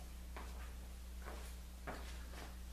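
Wooden drawers for a table saw cart slide into their grooves, making several soft, brief scraping and bumping sounds over a constant low hum.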